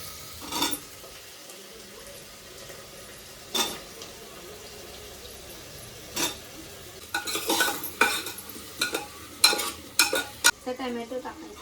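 Potatoes fry in a pan for aloo pulao with a soft background sizzle, while a spoon scrapes and clinks against the pan in separate stirs that come quicker and busier toward the end.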